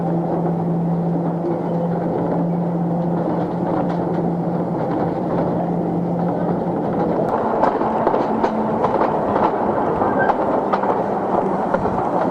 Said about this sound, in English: we're going to go up the mountain in this train now.